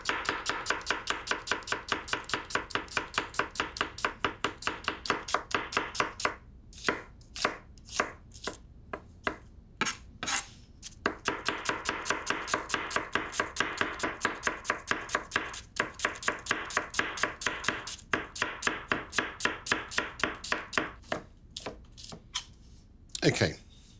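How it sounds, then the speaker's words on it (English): Rapid, steady knife strokes on a cutting board as onions are sliced very finely, a dense run of crisp chops with short pauses, close and fairly loud with no talking. "So slice your onions incredibly fine."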